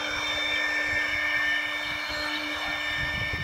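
A CNC machine cutting HDPE on a tab cutoff gives a steady whining spindle drone with a constant high hum and rough low chatter, continuous and fairly close, no talking.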